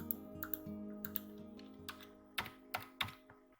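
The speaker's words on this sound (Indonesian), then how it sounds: "Kita ketikkan saja snipping tool" Typing on a computer keyboard to search a Windows start menu, a run of distinct clicking keystrokes at close range, irregular in rhythm, with several sharper, louder taps near the end and no talking.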